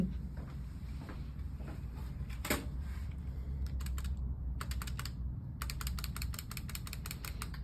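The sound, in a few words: computer keyboard typing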